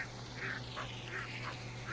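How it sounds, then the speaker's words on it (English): Spooked ducks quack in a run of nasal calls in the video game Hunt: Showdown 1896, several bursts spaced roughly every third of a second over a steady low ambient hum, with no talking. "We spooked the ducks."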